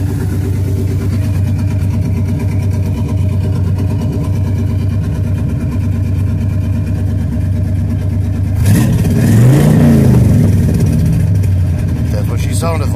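A 1974 Chevrolet Corvette engine idles with a steady, loud low rumble, then revs up sharply near the end before settling.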